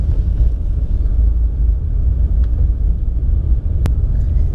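A stock BMW 335i E90 with automatic transmission on light, partial throttle, heard as a steady low engine and road rumble from inside the car, with one brief click near the end.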